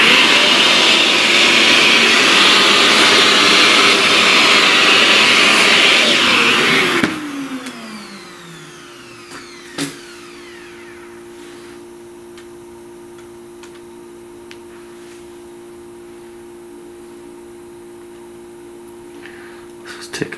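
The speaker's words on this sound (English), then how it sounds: "Let's vacuum that." A vacuum cleaner sucks up pastel dust from a pastel flower drawing, a loud steady whir for about seven seconds before the motor winds down with a falling pitch, leaving quiet room tone and a faint tap.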